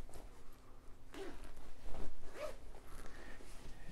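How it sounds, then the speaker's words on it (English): A zipper on a sewn bench pillow with border-print fabric is pulled open in short, soft rasping bursts, quiet and close, with light fabric handling between the pulls. "So we can try and unzip the zipper some more."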